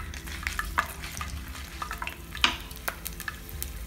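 Five dried red chillies and four garlic cloves are stir-fried in a pan for carrot chutney, with soft, close scraping strokes and a low sizzle throughout and no voices.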